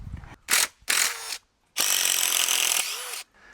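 Bursts of a power driver backing screws out of a concrete pad form, several short whirring runs followed by one longer sustained spin, close and fairly loud with brief pauses between.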